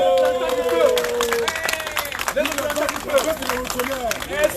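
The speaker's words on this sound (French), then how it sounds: "je vais demander un satisfecit particulier, des applaudissements particuliers pour le peuple que nous sommes" An audience applauds at a gathering addressed by a general, with dense clapping and crowd noise under a loud voice speaking over it.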